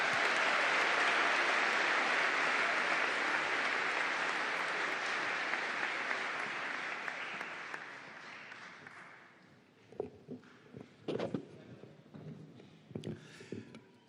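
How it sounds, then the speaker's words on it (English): Applause from a large commencement audience honours doctoral candidates, a loud, sustained roar of clapping that gradually thins out and fades, leaving scattered claps and room noise at the end. "one more round of applause, please, for our doctoral candidates this year"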